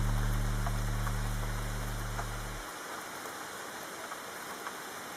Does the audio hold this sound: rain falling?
yes